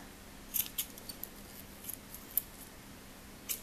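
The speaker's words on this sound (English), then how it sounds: "And then trim down the excess." Scissors trimming off excess yarn from a crocheted flower, several quick soft snips scattered over a few seconds, faint and close in an otherwise quiet room.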